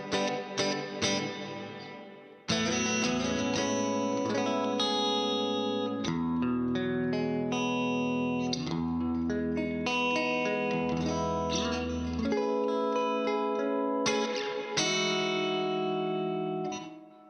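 Electric guitar chords and notes ring out drenched in a spacious hall reverb from a Flamma Corrector pedal, each phrase trailing off in long, washing tails.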